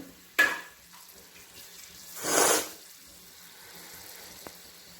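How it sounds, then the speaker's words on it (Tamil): Bay leaf and whole spices in hot oil give one short burst of sizzling hiss midway, set apart by a sharp click near the start and a faint tick near the end over a quiet background. "இது ஒரு 2 செகண்ட் மாத்திரம் நல்லா ஃப்ரை பண்ணிக்கோங்க"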